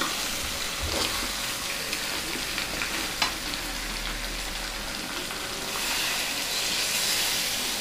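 Water poured into a pot of chicken curry with potatoes that has been browned for a long time, giving a steady, close hiss and sizzle throughout with a low rushing undertone in the first half.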